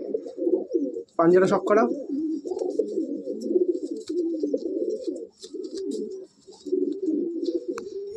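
Madrasi pigeon from a breeding pair in a loft coos in a low, continuous, rolling murmur close by, while someone talks over it and a brief sharper burst cuts in near the start.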